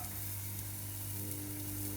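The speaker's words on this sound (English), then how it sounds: "I'm gonna roast this red onions or shallot, garlic, ginger slices here." Slices of red onion or shallot, garlic and ginger roast in a pan over medium-high heat, giving a steady, close sizzle and crackle with a low constant hum beneath.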